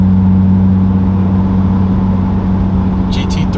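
An Infiniti G35 fitted with a MagnaFlow X-pipe exhaust idles loud and close, a deep steady drone that holds with little change for a few seconds.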